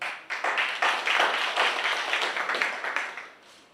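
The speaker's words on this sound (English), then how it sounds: "A round of applause for" Applause at an engineering institution manifesto launch breaks out for about three seconds, a dense crowd of hands clapping close by before fading out.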